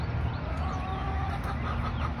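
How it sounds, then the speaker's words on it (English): Chickens on a farm clucking and calling around feeding time, several birds overlapping in soft close clucks and short squawks over a low steady background hum. "Can you hear the birds? Can you hear the chickens?"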